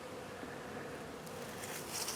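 Honey bees buzzing around a hive entrance while bringing in pollen in winter, giving a soft continuous drone with a few louder passes from nearby bees near the end.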